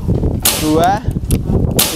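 Two sharp cracks from a wooden CNC-made toy cap gun ring out, the first with a brief whistling tone after it, the second following about a second later.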